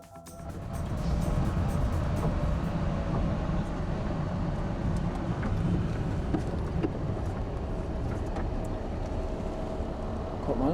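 A Porsche Carrera GT fitted with an aftermarket exhaust accelerates from a rolling start, heard as a steady, distant engine roar that swells early and holds throughout, with no voices.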